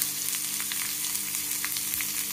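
Onion dropped into hot oil with curry leaves for Maharashtrian pithla, a steady close sizzle and crackle with small spitting pops, no voices.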